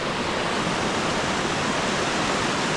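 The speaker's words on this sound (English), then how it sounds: "So many fantastic waterfalls on this trip." Rushing, steady white roar of a waterfall in the Scottish mountains, loud and close, unbroken throughout with no other sounds.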